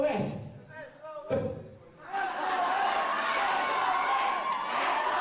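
Irish Whip Wrestling crowd shouting and chanting for Sheamus O'Shaunessy: after someone talks over a lull, a loud broad roar of many voices rises and holds steady, filling the arena.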